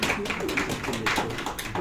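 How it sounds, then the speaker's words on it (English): Audience applause at a media engagement event in Botswana, a dense burst of many hands clapping with sharp individual claps standing out, loud and close throughout the short span. "Can we have a proper round of applause for Mountain?"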